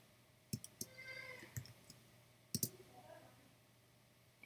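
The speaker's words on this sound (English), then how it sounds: "And just click here and there now" Faint, sharp computer mouse clicks come during photo editing, a few single taps and a quick double click spaced apart in a quiet room.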